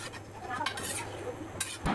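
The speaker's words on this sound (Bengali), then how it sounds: "জল দিয়ে আবারও একটু নাড়াচাড়া করে রাখলাম" A spoon stirs raw jackfruit curry in a pot just after hot water goes in, giving soft scraping and a couple of light metallic knocks over a faint, quiet simmer.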